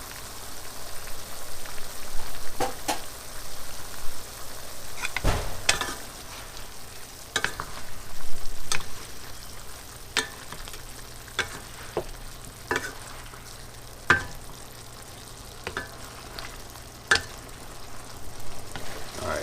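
Eight jewelled fried rice sizzling in a pan while being stirred, a steady crackling fry broken by repeated sharp scrapes and clacks of the utensil against the pan, close and fairly loud, no talking.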